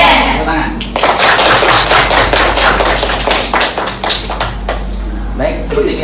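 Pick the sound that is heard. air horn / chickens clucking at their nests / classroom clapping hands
classroom clapping hands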